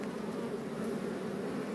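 Bees from an open, honey-filled hive on a rock cliff buzz in a steady, dense drone that holds without a break, close and fairly loud.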